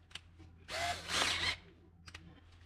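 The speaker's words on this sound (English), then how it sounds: "I prefer using some sort of drill. It'll go a lot faster." A drill fitted with a 6mm socket spins out a track stud on a Yarbo robot, a short close whirring burst of about a second with faint clicks before and after, no talk.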